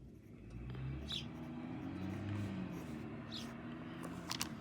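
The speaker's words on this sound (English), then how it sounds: "sorry for the car noise outside" A car passes by outside, a faint, muffled swell of road noise heard through a window behind quiet indoor scratching sounds.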